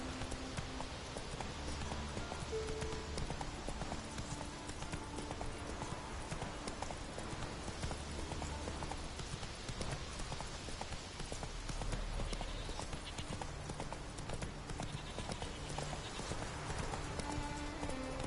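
Horse hooves trotting in The Witcher 3 video game: a steady, continuous clip-clop of hoofbeats that runs throughout, set against dense in-game ambience and music.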